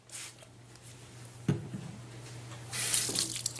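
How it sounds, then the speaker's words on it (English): Cool tap water runs briefly over an alginate dental impression at a sink, a soft splashing stream with a knock partway through, then a brighter, louder rush of water near the end. "we'll rinse it with a little bit of cool water"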